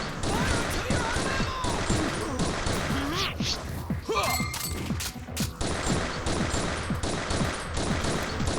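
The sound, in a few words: gunfire in video game Final Fantasy Type-0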